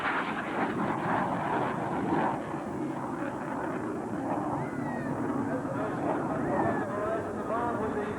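An F/A-18 jet fighter in a flight demonstration makes a broad, steady roar overhead. A narrator talks over the sustained engine noise throughout.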